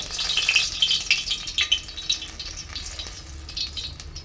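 Whole garam masala, two bay leaves, four dried red chillies and black cumin crackle in hot oil, a steady close sizzle with bursts of spitting pops early on, then settling into a softer fry.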